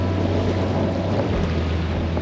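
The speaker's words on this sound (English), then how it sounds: "it's a bit windy today" Steady wind buffets the microphone by the water at Warners Bay, Newcastle, Australia, a constant low roar with rippled, choppy water beneath it and no voices.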